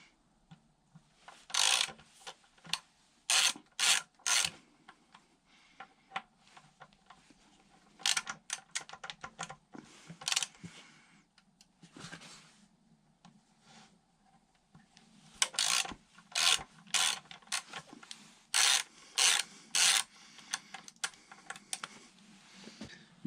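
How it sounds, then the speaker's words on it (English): A 6mm Allen key working two pinch bolts on a raised Triumph Speed Triple 1050 gives bursts of sharp, rapid ratcheting clicks, close and crisp, in three clusters separated by quieter fiddling and light mechanical rattles, with no talking. "So with the bike in the air, I'm just going to undo these two pinch bolts."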